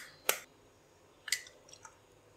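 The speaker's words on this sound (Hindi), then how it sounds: "तो उसमें एक अंडा डालेंगे" An egg is cracked into a mug for a chocolate mug cake, heard as two short, sharp taps a second apart followed by a soft wet plop, quiet and close.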